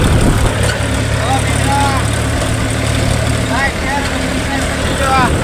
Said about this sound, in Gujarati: હાથમાં છે ટ્રેક્ટર, ઢાળીઓ ચડે હવે